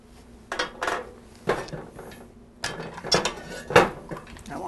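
A spoon knocks and scrapes around a tagine pot while lemon zest and juice are stirred into a lamb shank and prune stew, giving several clustered clinks and scrapes with short pauses between them.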